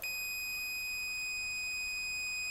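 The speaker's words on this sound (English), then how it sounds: "my meter is going to be set on a continuity setting right here with the alarm" A multimeter on its continuity setting emits a steady, continuous high-pitched beep as the probes touch during a steam mop repair, sounding alone and unbroken the whole time.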